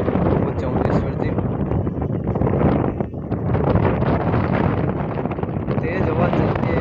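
Strong wind buffets the microphone beside the swollen Banas River, a loud continuous roar of gusting noise with no pauses throughout.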